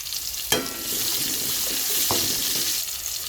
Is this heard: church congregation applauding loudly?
no